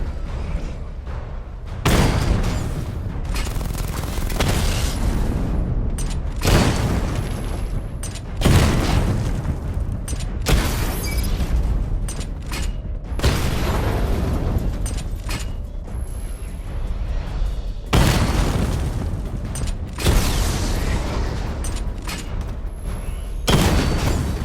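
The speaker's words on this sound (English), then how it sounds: "Charge the missile barrage to level 2 to destroy up to 4 targets at once." Missile barrage from the Batmobile in Batman: Arkham Knight, a run of heavy booming explosions bursting every few seconds over a constant mechanical rumble, loud and close with no talking.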